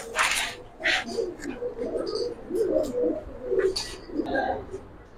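A silver female pigeon at a pigeon farm coos in repeated low, throaty phrases close by, with brief higher chirps and soft rustling between them.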